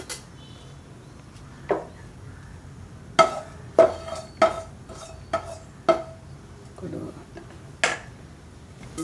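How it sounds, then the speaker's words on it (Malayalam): Mustard seeds splutter in hot coconut oil in a pan, giving a scattered run of sharp, close pops and crackles with quiet gaps between them. "നമ്മൾ ആദ്യം കടുക് വറുക്കണം"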